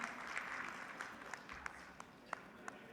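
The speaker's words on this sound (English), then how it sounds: "Ladies and gentlemen, it's time that we clap and we let him know" An audience at a youth skills and digital economy event in Rajasthan applauds to welcome a speaker, steady crowd clapping with a few sharper claps, heard from a distance and fairly soft.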